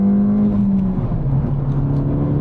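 A Ford Fiesta ST mk7 engine pulls hard on the road, a loud steady drone that holds one pitch, dips slightly after a second, then carries on at a lower note.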